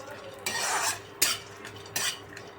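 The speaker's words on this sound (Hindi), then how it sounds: "अब इसी में काजू को भी भून लेते हैं, दोनों एक साथ भून लेते हैं।" Chopped almonds and cashews being roasted together in a pan while making mawa gujiya, with a steady dry rustling stir and a few sharp utensil scrapes against the pan, close and moderately loud, without speech.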